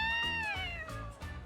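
A cat in the video game Yakuza: Like a Dragon gives a few drawn-out, whiny meows in quick succession, loud and close with no talk over them.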